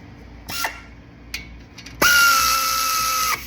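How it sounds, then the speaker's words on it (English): A pneumatic air tool tightens brake caliper hardware on a 2018 Acura MDX during a brake job: two brief high whirring bursts, then a longer sustained whine of more than a second that cuts off sharply, with no talk. "Do not rely on your air tool to know that it's tight unless it's calibrated to be torqued that way."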